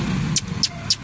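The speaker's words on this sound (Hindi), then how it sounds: "ये अभी गाड़ी आ गई है" A cargo vehicle arrives with a low, steady motor rumble, broken by three short, sharp hissing bursts at regular intervals.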